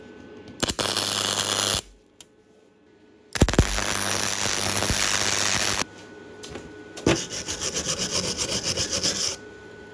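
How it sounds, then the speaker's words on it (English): A tool scrubs metal clean ahead of welding in three loud bursts of harsh, steady rasping with short quiet gaps. The last burst carries a rapid rhythmic pulse. "just got to clean up the metal"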